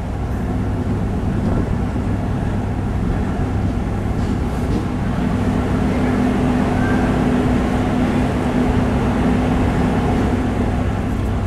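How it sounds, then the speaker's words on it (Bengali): Train pulling out of Bishalgarh railway station, heard from on board as a steady low rumble and rolling drone of the carriage, constant and fairly loud throughout. "ছেড়ে দিল আমাদের ট্রেনটা বিশালগড় রেলওয়ে স্টেশন থেকে"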